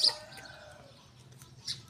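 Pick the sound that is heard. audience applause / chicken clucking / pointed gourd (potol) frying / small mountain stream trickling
chicken clucking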